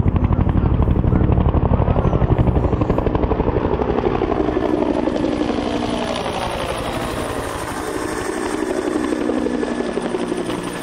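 A military helicopter flies low over the Pentagon area, heading toward its landing zone, its loud, rapid rotor thumping steady and close throughout with a deep engine roar underneath, fading only slightly toward the end.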